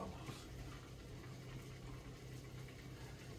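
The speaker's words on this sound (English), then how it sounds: "It's bubbling a lot because I'm using coconut oil." Pork chops fry in coconut oil in a cast iron skillet, giving a steady, dense bubbling sizzle with a low background hum throughout.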